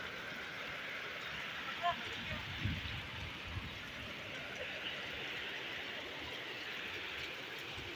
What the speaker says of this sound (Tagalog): Lakas ng ulan, grabe.